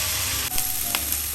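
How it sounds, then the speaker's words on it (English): Pulled pork searing in a hot pan, a bright continuous sizzle up close with a couple of quick stirring scrapes partway through. "So next up is searing our pork."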